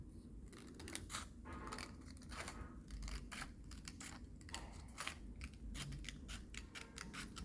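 Scissors snip through paper to cut long strips in a classroom craft, giving a rapid run of crisp, close cuts and rustles with faint room noise and no talk.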